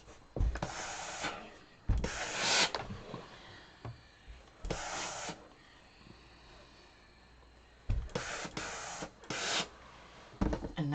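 Sewn quilt blocks pressed with an iron, giving several separate bursts of hissing steam and rubbing against fabric with quiet pauses between them, close and moderately loud.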